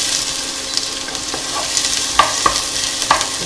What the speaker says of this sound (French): Et je vais faire revenir l'oignon et l'ail.